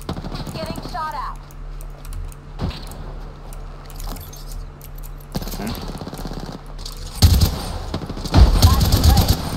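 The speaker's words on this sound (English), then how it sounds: "Getting shot at." Automatic weapon fire in Apex Legends crackles in rapid bursts, growing louder and denser toward the end, mixed with game sounds and a player talking over it.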